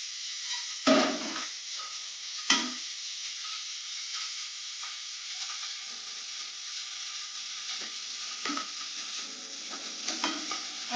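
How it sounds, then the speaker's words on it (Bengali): Fish fries in a pan in little oil, with a soft, steady sizzle and hiss and a couple of sharp utensil knocks near the start, plus scattered light pops. "কিছুটা মাছ এখানে ভাজা হচ্ছে"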